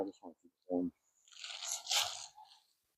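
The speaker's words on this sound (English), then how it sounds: "Hang on, I'm crunching. That broccoli didn't get quite done." Undercooked broccoli crunched between the teeth outdoors in chilly air, a loud stretch of crisp, crackly chewing following a few short bursts of speech.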